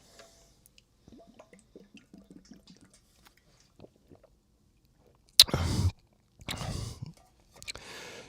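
Someone grabs a drink of water: a few quiet handling clicks and soft rustles, then several short, close bursts of sipping and gulping spaced a second or so apart.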